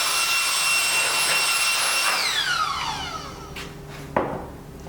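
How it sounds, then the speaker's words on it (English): A small air blower clears coarse dust from FRP pultrusions. It gives a steady close rushing hiss that winds down with a falling whine, followed by a single sharp knock near the end. "we just use this little air blower and to get rid of or remove the first layer of coarse dust"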